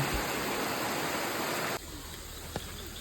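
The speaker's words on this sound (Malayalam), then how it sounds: "ഇവിടെ വെള്ളം ഒലിച്ചിറങ്ങുന്നതിൻ്റെ ഒരു സ്പീഡ് കണ്ടോ" Water trickles and rushes steadily down limestone walls inside a dark cave, a close continuous hiss that drops suddenly in level partway through, with one brief tap.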